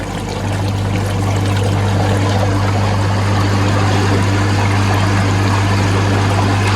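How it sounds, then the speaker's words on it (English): An aquarium air pump bubbles water in a fish tank being treated for parasites, giving a loud, steady hiss and churning gurgle with a low constant hum running throughout, without talk. "Get that bubbling away, and leave that for just a few minutes."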